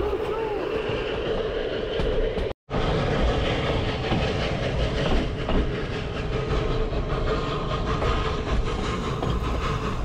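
A wood- and coal-fired steam train on the Vișeu de Sus narrow-gauge forest railway in Maramureș, Romania, rumbles along with steady mechanical noise and rhythmic clatter, continuous and fairly close, with one brief dropout partway through.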